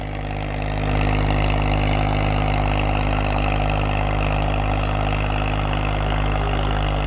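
A Swaraj 744 tractor, new model, hauls a heavy harrow through a field. Its diesel engine holds a steady, loud, close drone with no talk over it.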